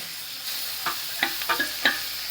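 Onion and tomato sautéing in a pan for a Bombay duck curry, a soft background sizzle broken by a few scraping stirs.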